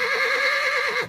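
A horse neighs loudly and close in a single sustained whinny with a wavering, tremoloed pitch, fading out at the end, alone without talk.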